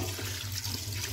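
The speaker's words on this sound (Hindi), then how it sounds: "मैंने पानी ऐड कर दिया।" Water being poured into a pot of chicken karahi with onion, garlic and salt, a brief continuous splashing pour heard close and steady, with no talking.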